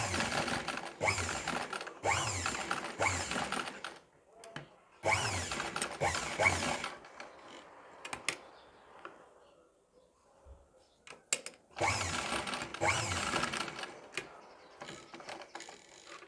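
A sewing machine stitches the neckline of a kurti in several bursts of rapid mechanical clatter, close and fairly loud, separated by quiet pauses with faint handling noise.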